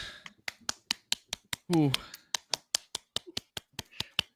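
Steady, fast hand clapping, one crisp clap after another at an even pace, close by, with a brief vocal exclamation breaking in midway.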